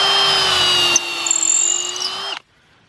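ToolPro 18-volt cordless drill running on a 4 amp-hour battery: a loud, steady high whine that shifts pitch slightly, then stops abruptly after about two and a half seconds, heard alone.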